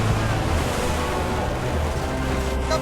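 Stormy sea surf churns and rushes continuously at sea, a steady windy wash of waves with low rumbling swells and no clear breaks.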